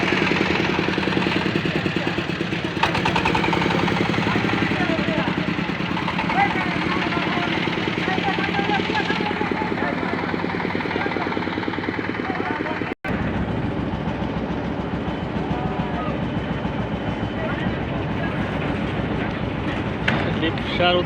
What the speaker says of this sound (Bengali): লিপসার উদ্দেশ্যে ট্রলার ছেড়ে দিল, যাচ্ছি লিপসা।